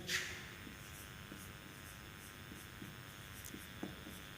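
Chalk or marker writing on a classroom board during a physics lesson, faint tapping and scraping strokes at a steady rhythm under a low room hum, with no speech.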